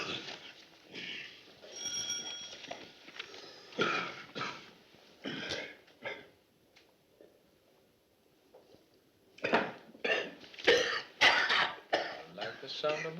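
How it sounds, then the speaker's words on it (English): A man coughs and clears his throat in repeated harsh bursts, with a quiet stretch midway and then a denser run of coughs, set amid speech. "He's been coughing like that all day"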